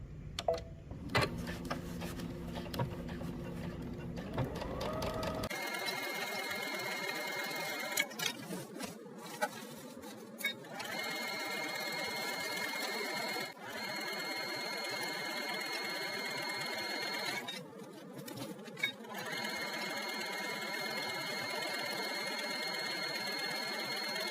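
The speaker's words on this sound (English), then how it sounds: "Make sure to keep your straps out of the way and stitch about 1/8 of an inch from that seam line" Sewing machine stitching along a seam line, a steady mechanical whir with bursts and short pauses as the needle runs close and loud, preceded by a brief lower-pitched motor hum.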